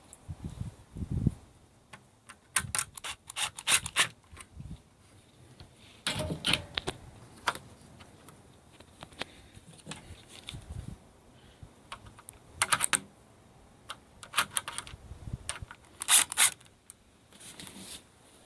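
Close, intermittent clicks and scraping bursts from a screwdriver driving screws into a strike plate on an RV screen door, coming in short irregular clusters with quiet gaps between them.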